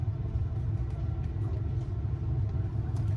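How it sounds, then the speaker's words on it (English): A large car's engine gives a steady, low rumble that carries through a beach campsite, loud and close, with no talking over it. "Oh, it's a big ass car."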